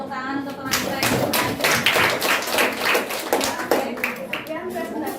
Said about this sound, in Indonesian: kita beri tepuk tangan untuk teman kita